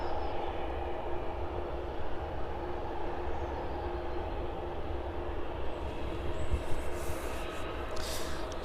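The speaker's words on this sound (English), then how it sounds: "that next aircraft in the distance making its way down towards us" A distant aircraft taxis slowly at an airport, a steady low rumble and broad engine wash holding throughout with a faint rising whine near the end.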